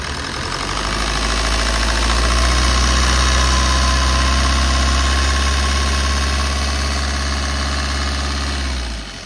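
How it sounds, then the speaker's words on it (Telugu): A 2013 Maruti Suzuki Swift VDI diesel engine idles steadily and loud with a deep, even rumble and a light rhythmic diesel clatter, running alone with no voices before tapering slightly at the end. "ఇంజన్ సౌండ్ అనేది చూసుకోవచ్చు చెక్ చేసుకోవచ్చు"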